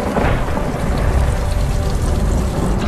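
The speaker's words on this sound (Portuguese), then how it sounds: "Tá chovendo, gente!" Heavy rain pours down in a film scene, a dense, loud, steady roar of falling water with low rumbling, close and continuous with no voices over it.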